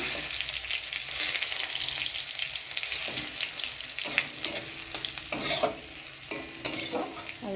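Panch phoron tempering sizzles in a pan with garlic and chilli, a close, busy crackle with frequent scraping stirs and sharp spits growing livelier in the second half.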